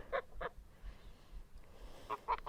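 Geese honk in short bursts, two calls early and a cluster near the end, fairly faint with a low rumbling background.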